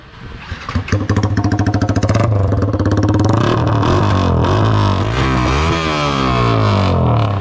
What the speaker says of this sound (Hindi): बिना एग्जॉस्ट के पहले साउंड सुना तो